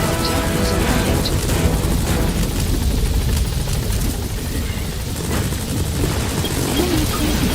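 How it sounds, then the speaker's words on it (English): Support helicopter from Metal Gear Solid V arriving, a steady loud rotor roar with a low rumble that holds evenly throughout, joined by some wind-like noise. "Support helicopter has arrived."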